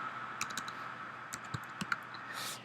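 Quiet computer keyboard typing, a few scattered light key clicks in small bursts against a steady hum.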